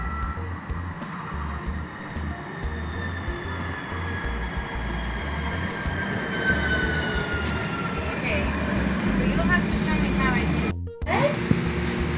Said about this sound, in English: it's a light rail that can take you basically anywhere in the Portland metro area